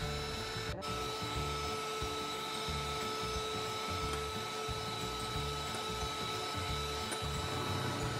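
An electric mixer whips egg whites to stiff peaks for a Bangka-style milk layer cake, giving a steady whirring drone that runs unbroken and fairly close, with the beaters rattling faintly against the bowl.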